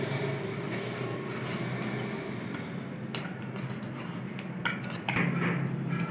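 A spoon scrapes and clinks steadily in a bowl while a masala marinade for Lahori fish fry is mixed, producing a light, continuous clatter up close with a few sharper knocks and no voices.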